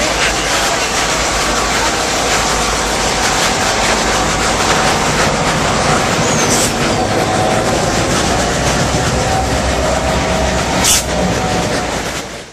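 A train on the Kuranda Scenic Railway near Cairns, Australia rumbles steadily along the rails into the mountains with a rhythmic clickety-clack, loud and close, with brief squeals and a faint voice now and then.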